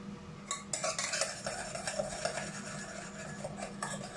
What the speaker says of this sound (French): On mélange ça.